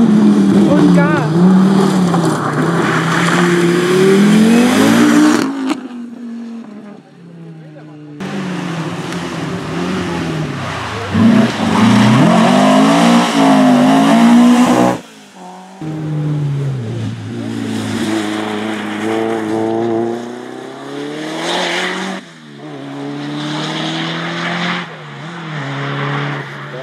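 A rally car accelerates hard along a stage of the Rallye Köln-Ahrweiler 2017, its engine loud and close, rising and falling in pitch through gear changes and repeated bursts of throttle.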